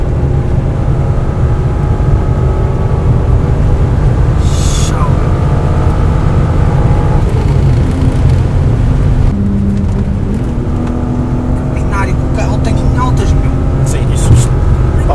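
A BMW E36 M3 roars steadily through a corner, its loud engine drone filling the scene with shifting pitch, while people talk over it.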